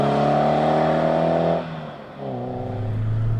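A 1600 cc Peugeot 205 GTI engine pulls hard while driven on a winding road, its loud harmonic drone climbing steadily through the revs, then dropping briefly on a gear change before rising again.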